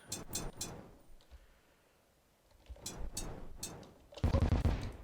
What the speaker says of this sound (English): he's gonna cannon me right in the face